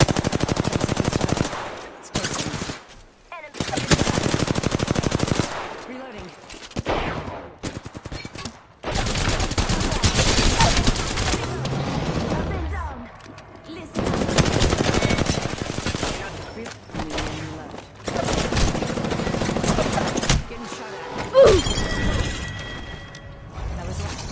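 Rapid bursts of automatic gunfire from Apex Legends on the Worlds Edge map, loud and close, with several long volleys separated by brief silent gaps.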